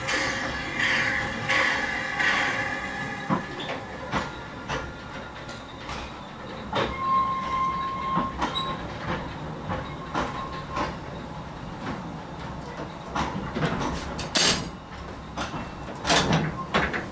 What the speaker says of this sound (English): the view from the signal box of the train arriving in the platform